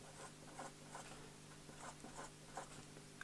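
Pen writing math on paper, faint close scratching strokes in short irregular bursts over a quiet background hum.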